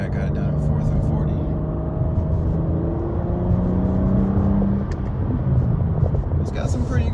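Engine of a 2023 BMW M3 Competition pulling hard in fourth gear after a paddle-shift downshift, a steady droning rumble with rising harmonic tones heard from inside the cabin under continuous talk.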